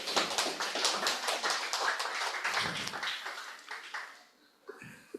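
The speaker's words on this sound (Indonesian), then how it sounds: "Tepuk tangan buat Pak Thomas sama Jabal." An audience claps steadily for several seconds in a dense, fairly even patter that thins out and fades near the end, with a few stray claps after.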